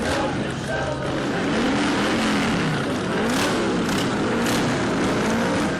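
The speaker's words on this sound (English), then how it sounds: "Mocking the motorcycle revving as their flag dancing music" Veterans' motorcycles rev their engines together at a protest, a dense, continuous rumble with rising and falling tones, loud and mid-distance, mixed with crowd noise.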